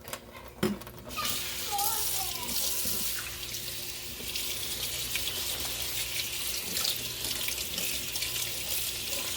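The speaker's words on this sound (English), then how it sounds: "I'm going to rinse these real quick." A kitchen faucet runs steadily into a sink while canned food is rinsed of its syrup under the stream, a close, loud, continuous hiss of water lasting throughout after a brief clatter at the start.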